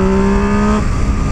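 A new XRacing motorcycle engine with an electronic throttle holds a loud, close, steady hum at about 4,000 rpm, then the tone abruptly drops away into rougher engine noise.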